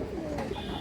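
A high flyer pigeon on a farm gives a brief, low, throaty coo up close, set against a steady murmur of background noise.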